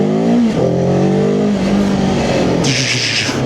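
A Cyclone RC600 motorcycle engine revving on a cold winter day, a loud close-up rising and falling engine tone as it accelerates through gears, alone without talk.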